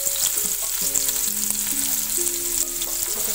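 Onion frying in hot oil for chana chaat, giving a continuous loud sizzle close to the pan that stays steady throughout with no talking.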